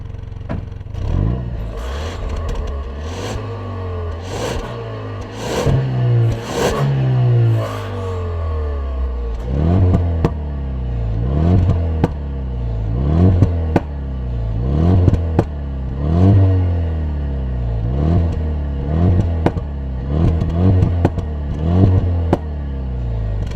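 Jaguar F-Type four-cylinder engine revving at a standstill with the exhaust valve closed, then opened, repeated sharp blips rising and falling in a steady rhythm, loud and close, a few heavier rasping revs early on.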